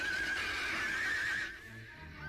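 A horse in the 1959 horror film The Killer Shrews lets out a single loud, drawn-out whinny that fades into quieter background noise.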